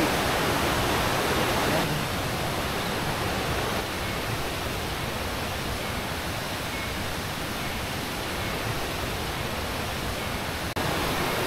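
A river rushes steadily beside a riverside campsite at Jerawok, a broad continuous wash of flowing water, loud and unbroken throughout.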